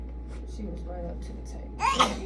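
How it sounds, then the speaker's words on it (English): A baby sneezes once near the end, a short sharp burst after quiet talk and soft babbling in a home setting. "You sneezed and my nose started running."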